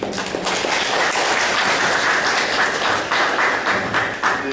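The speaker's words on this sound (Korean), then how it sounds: "큰 박수 부탁드립니다." An audience claps at the close of a keynote lecture on carbon-neutral CO2 conversion technology, producing a dense, continuous round of applause that stays loud and even from start to finish.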